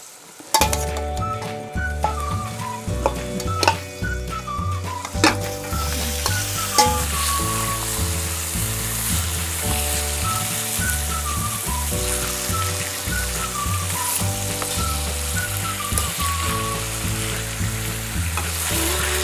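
Chicken pieces sizzle loudly in hot oil with onions browned golden for biryani, with steady frying crackle and repeated scraping stirs of a spoon against the pan, while music plays prominently in the background.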